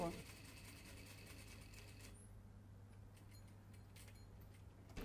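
A sewing machine stitches the collar of a dress with a steady, fast mechanical whir and rattle that cuts off after about two seconds, leaving faint clicks and room tone.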